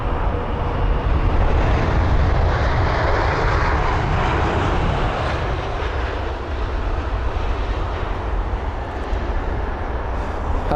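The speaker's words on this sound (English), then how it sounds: "Flaps all the way down, helping the aircraft to stop, as well as the spoilers and obviously the brakes." A large airliner lands at London Heathrow with flaps fully down and spoilers raised, its loud, steady engine roar and rushing air close by and filling the whole stretch without a break.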